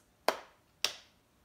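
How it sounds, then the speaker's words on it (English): Hands clap twice, two sharp, close claps about half a second apart with quiet between them. "And then I'm gonna clap twice."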